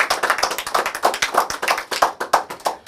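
A small gathering at a community calendar launch claps, a near, fairly sparse run of distinct handclaps in uneven rhythm, without talk.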